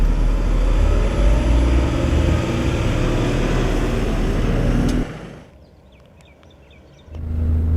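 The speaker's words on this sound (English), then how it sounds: "So as I accelerate, I'll disengage the park brake at the same time." An IVECO Eurocargo 4x4 truck pulling away on an incline, a loud close engine drone that builds and holds, then drops off abruptly for a couple of seconds before returning.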